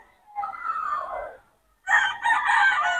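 Roosters crowing on a chicken farm in Bocaue, two loud, close calls in quick succession with a short pause between them and no talking.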